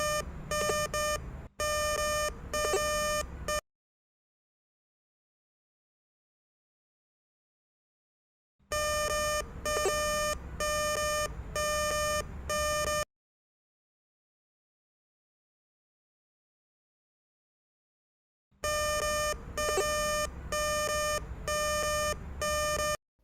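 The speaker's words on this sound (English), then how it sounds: "When a precious metal signal is detected, the device will make a sound as the precious metal level indicator moves." A TITAN 400 SMART VLF long-range metal detector beeping on a precious metal signal: three bursts of rapid, regular electronic beeps, each lasting several seconds, with silent gaps between them.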